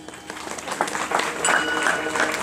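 An audience claps together at a Marathi kirtan, a dense burst of handclaps that swells slightly toward the end, with some voices mixed in.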